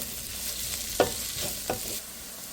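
Onions frying in a pan and stirred with a utensil, a steady close sizzle broken by two or three sharp scraping clicks, no voices.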